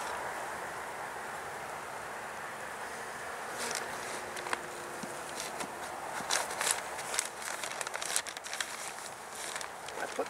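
Honeybees flying around an opened hive in late autumn before winter, a steady low buzzing hum from many bees with brief louder passes and light handling clicks of the hive boxes nearby.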